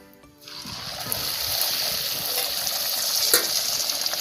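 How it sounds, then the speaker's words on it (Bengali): Radhaballavi dough dropped into hot oil, starting with a quiet moment and then breaking into a steady, bright bubbling sizzle that holds loud and close to the end. "তেলটা গরম হয়ে গেছে এভাবে তেলের মধ্যে আমি এবার এই রাধা বল্লবীটাকে ছেড়ে দেবো"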